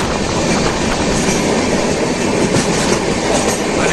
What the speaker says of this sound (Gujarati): ચર્ચગેટથી ઉપડે છે આ ટ્રેન